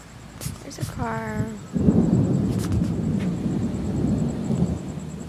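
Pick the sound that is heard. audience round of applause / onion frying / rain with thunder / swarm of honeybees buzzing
rain with thunder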